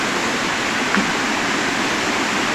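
Waterfall at Khao Soi Dao dropping from a great height, a steady, loud, full-spectrum roar of falling water heard up close with no speech over it.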